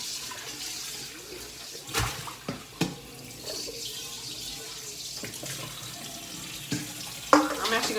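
Water runs steadily from a kitchen tap into a large bowl, a continuous close splashing hiss broken by a few clinks and knocks of dishes as it fills.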